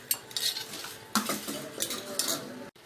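A metal grill set over a wood-fire stove with glowing embers clanks and scrapes in a few close metallic knocks and rattles, followed by a faint sizzle.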